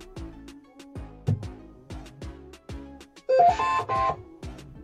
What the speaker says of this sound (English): Now let's turn on the printer. You can hear some melody from the machine first.